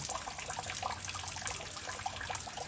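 Rainwater running off gutters and filling storage tanks, a steady broadband splashing rush that stays even and continuous throughout, with no voices.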